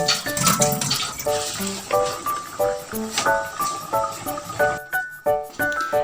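Water splashes and pours out in gurgling bursts, with light clinking, close and fairly loud, as water is drained from blanched sweet potato tops.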